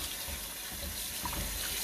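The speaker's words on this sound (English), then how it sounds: "Right now we're rinsing the carrots because it's salty." Tap water runs steadily into a sink while carrots are rinsed during the making of Lao egg rolls, a continuous close splashing hiss with no talk.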